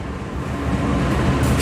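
The Kahuripan passenger train rolls alongside a CC 204 locomotive in vintage 1980s PJKA livery at a Yogyakarta station, a steady close rumble of wheels and engine that holds throughout.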